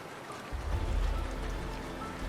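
Steady rain falling in the video game Snowbreak, a dense, continuous patter with a low rumbling undertone that swells after a brief quieter opening and holds evenly to the end, with no voices.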